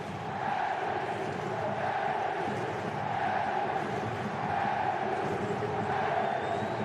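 A large Flamengo stadium crowd at a 2011 Brazilian league match against Corinthians roars in sustained, distant waves of cheering and chanting during a tribute to Petkovic, with no break in the dense wall of sound.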